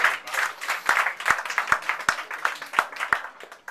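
A theatre audience applauds after a comic storyteller's tale, a dense patter of many hands clapping steadily for a few seconds at moderate distance, with no talk over it.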